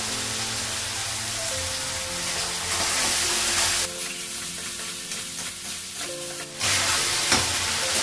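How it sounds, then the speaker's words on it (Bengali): Spice paste for a meat curry sizzling loudly in a pan as it is stirred, a constant hiss with scraping stir strokes and surges in intensity, with no talking. "মশলাটা ভালো করে কষে নেবো, তারপর মাংসটা লাগাবো।"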